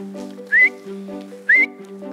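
Two short rising whistles, about a second apart, sound clearly over a steady low hum.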